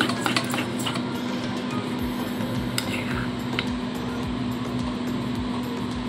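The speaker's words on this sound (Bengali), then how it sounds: "দইয়ের মধ্যে একটু গোলমরিচের গুঁড়ো দিয়ে দিচ্ছি, দিয়ে ভালো করে ফেটিয়ে নিচ্ছি" Yogurt with a little ground black pepper is whisked briskly in a bowl, a steady soft wet stirring with light clinks of the utensil against the bowl throughout, close and moderately loud.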